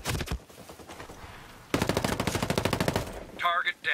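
Hostile gunfire in Tom Clancy's Ghost Recon Breakpoint, with sporadic shots, then a long rapid automatic burst at close range, ending with a brief electronic warble.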